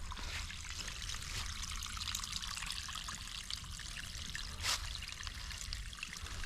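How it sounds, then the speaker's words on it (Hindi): Water trickles and pours steadily through an irrigation channel in a field near Tundi, Dhanbad, Jharkhand, a continuous close hiss with one brief louder splash partway through. "तो पानी का आवाज़ आ रहा है"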